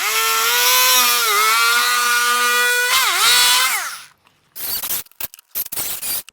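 A power tool cuts a small corner out of a flush mount housing during a Ford Ranger / VW Amarok accessory harness install. A steady high whine dips in pitch under load, cuts out, then gives way to short scraping bursts.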